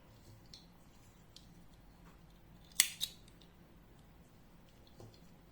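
Scissors snip the end of crochet yarn with two quick, close cuts in a quiet room, surrounded by faint small handling noises.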